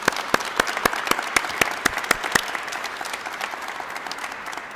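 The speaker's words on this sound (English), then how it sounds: "one more round of applause for today's announcement" Applause breaks out at a Cleveland press conference for a city funding announcement, a steady patter of many hands clapping with sharp individual claps standing out near the start, then settling into an even round.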